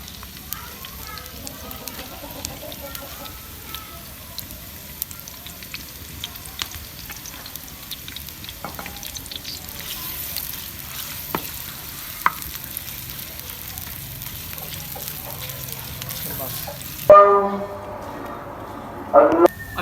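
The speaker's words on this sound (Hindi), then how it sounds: "अब हम इसके अंदर प्याज डालेंगे और इसको अच्छी तरह से भुनाई करेंगे प्याज को" Onions fry in hot ghee for a village-style daal mash fry, a faint, low crackle and sizzle with scattered pops and some talk, ending in a louder burst of sizzling.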